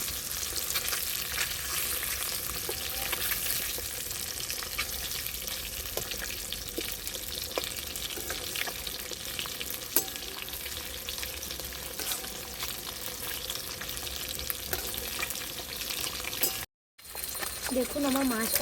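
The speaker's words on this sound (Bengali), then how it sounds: "তেলটা আমার গরম হয়ে গেছে, এবার আমি মাছগুলোকে কষিয়ে নেবো এক এক করে" Fish pieces fry in hot oil in a wok for a large-fish and cauliflower curry, giving a steady, loud sizzle throughout that briefly cuts out near the end.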